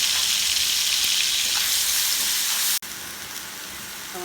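Ginger garlic paste frying in hot oil for a fish curry with ridge gourd and potato, a steady close sizzling hiss that drops briefly midway and then continues.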